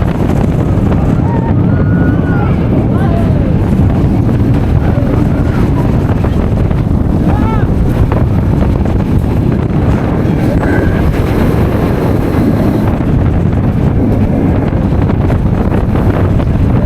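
A roller coaster ride at Energylandia filmed from the front row, with a constant roar of rushing wind and rumbling track noise that stays loud throughout. A few faint screams or whistles rise over the din.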